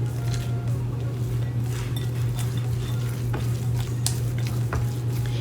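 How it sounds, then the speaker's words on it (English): Banana cookie batter with chopped pecans is stirred in a bowl, giving soft, continuous squishing and scraping under a steady low background hum, with a few faint clinks. "Let's mix it."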